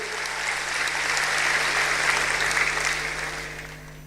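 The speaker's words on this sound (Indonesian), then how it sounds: "Yang setuju berikan tepuk tangan yang meriah buat Tuhan." A church congregation applauds at a sermon, steady dense clapping from many hands that holds for about four seconds before a sudden loud thump at the very end.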